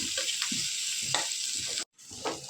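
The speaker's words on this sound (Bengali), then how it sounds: "একটু পেঁয়াজটা আর মরিচ রসুন ভেজে নিতেছি।" Loud, continuous sizzling of onion, chili and garlic frying in hot oil, with soft stirring scrapes throughout and a brief cut to silence near the end.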